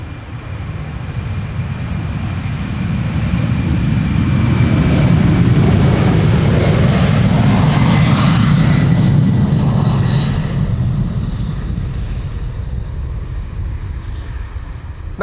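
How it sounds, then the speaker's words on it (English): A 31-year-old United Airlines Boeing 767-300 jet departs, its broad engine roar swelling to a loud peak midway and slowly fading, with a steady high whine running throughout. "This is United Airlines flight 21 to Houston, Texas. It's a 767-300."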